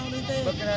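Goats bleating at a Pakistani livestock market, a short wavering nasal bleat rising near the microphone amid crowd chatter and speech.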